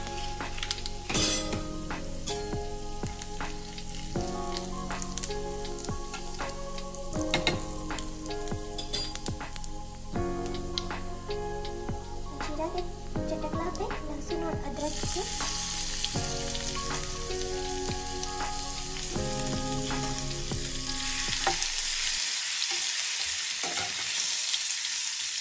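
Cumin seeds sizzle steadily in hot oil in a kadhai for an aloo jeera sabzi, with scattered clinks of a spoon and a tonal background bed; the frying swells into a louder, brighter hiss near the end.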